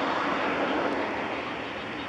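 A Rumo diesel locomotive numbered 3300, idling ready to depart, gives off a steady, loud, broad engine roar that holds evenly with no talk over it.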